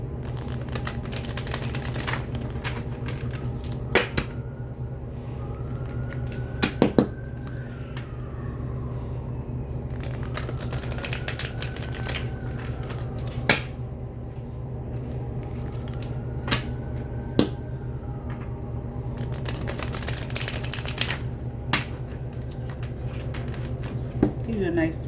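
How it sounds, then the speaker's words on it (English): Tarot cards from a Horror Tarot deck being shuffled, bursts of crisp riffling and card slaps recurring every few seconds, close and fairly loud, under a steady low background hum. "Let's get some good shuffles in, and we will begin your reading."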